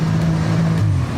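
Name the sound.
Porsche 911 Turbo S car driving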